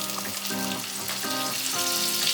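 Butter sizzles in a pan over a medium flame for a chicken creamy sandwich, a steady close hiss and crackle with soft tonal music running underneath.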